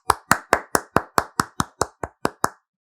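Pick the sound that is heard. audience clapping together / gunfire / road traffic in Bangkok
audience clapping together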